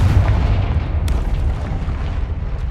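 A Confringo blasting-spell explosion in Hogwarts Legacy makes a loud, deep, rumbling boom that fills the whole stretch and slowly thins out, with a brief crackle partway through.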